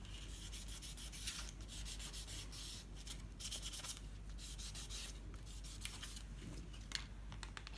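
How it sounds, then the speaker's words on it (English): Sandpaper rubs back and forth across a dry point printing plate in steady, close, fairly quiet strokes, a continuous scratchy texture with no talk. "Sandpaper. So you can see the sandpaper there."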